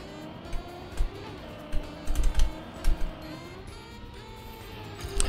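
Computer keyboard keys typed lightly during a racing game session, a cluster of soft irregular clicks and taps at close range, several quick bursts then sparse presses over a low background hum, with no talking.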